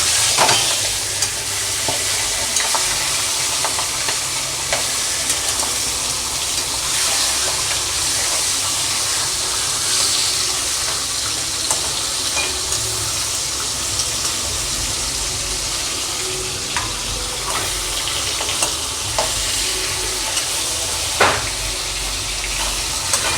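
Rohu fish head frying in hot oil with turmeric gives a steady, dense sizzle with crackling pops and occasional spatters, close and loud, continuing without talk.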